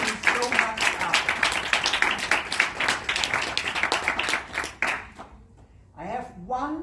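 An audience at a Toastmasters club meeting breaks into brisk, rhythmic applause, dense and close for about five seconds before tapering off, after which a voice begins speaking.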